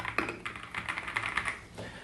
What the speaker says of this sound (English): This keyboard uses the Kiiboom crystal switches, which is transparent. It's a linear type switch. The sound is, I would say, dampened.